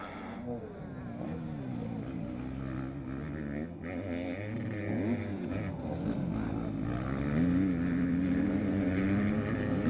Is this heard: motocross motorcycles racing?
yes